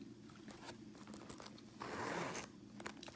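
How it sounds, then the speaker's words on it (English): A faint zipper on a handbag being pulled, with a few small clicks and rustles, then one smooth drawn-out zip near the middle, heard up close and quiet. "Really smooth zippers, perfect zipper compartment at the back"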